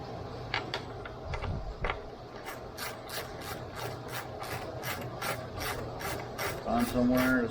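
A ratchet clicks rapidly and evenly while loosening 10 mm bolts on a 2013 Jeep Wrangler JK with the 3.6 Pentastar engine, a close, crisp run of pawl ticks with light metallic rubbing.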